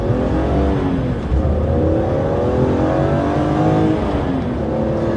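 Bone-stock BMW E46 M3 with a manual gearbox pulling along on the road, its engine droning loudly from the cabin with rising and falling revs as it accelerates, steady throughout and with no voices.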